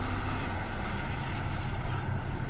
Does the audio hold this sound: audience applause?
no